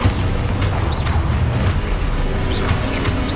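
Expulso explosion spell cast in Hogwarts Legacy, a dense booming blast with crashing, rumbling debris that fills the whole moment at close, loud range.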